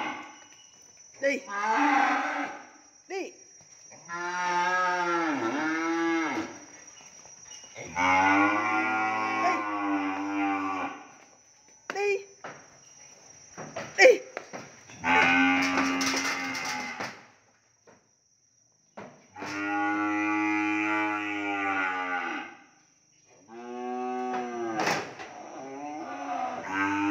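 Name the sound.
cattle mooing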